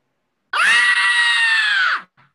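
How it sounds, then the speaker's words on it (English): A single loud, sustained scream rings out for about a second and a half, then breaks off, followed by a short faint gasp. "Then a scream is heard outside the dining room door."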